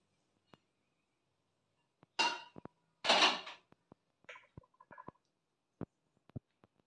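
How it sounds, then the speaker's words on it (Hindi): Chopped green chilies and potatoes go into a pan with two short, soft rustling thumps and a few scattered small clicks, in an otherwise quiet kitchen. "ये कटी हुई हरी मिर्ची, ये जो आलू हमने लिए थे उन्हें भी इसी में ऐड कर देंगे।"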